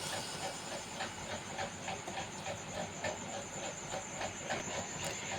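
A steady hiss of a glass of water hitting hot masala in a pan, with soft rhythmic bubbling bursts throughout, close and fairly loud, no voices.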